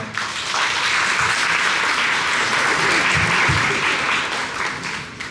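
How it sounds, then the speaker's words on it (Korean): Audience applause at a wedding ceremony, a dense, loud wash of clapping from many guests that holds steady for several seconds before tapering slightly. "큰 박수 부탁드리겠습니다."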